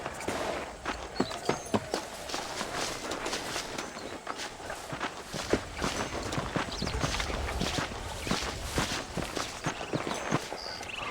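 Horse hooves clip-clop at a steady walking pace in the Western video game Red Dead Redemption, loud and near, with rhythmic footfalls running throughout and no talking.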